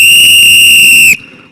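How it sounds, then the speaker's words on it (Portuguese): A loud, shrill whistle blown straight into a microphone at a church youth gathering, one sustained piercing blast that cuts off abruptly, followed by a brief quieter tail and a short renewed burst. "Me disseram que o apito, quando eu toquei ali, não estava tão alto."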